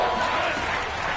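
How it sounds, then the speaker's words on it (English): Crowd roar in a football stadium ahead of a big third down, a dense, sustained wall of cheering heard briefly under a play-by-play commentator. "The crowd getting into it as we come up on a big 3rd down."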